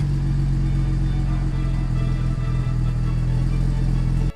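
A 1964 Jaguar MK2 saloon's 3.8-liter straight-six engine idles steadily with a deep, even rumble, close and continuous before cutting off abruptly at the end.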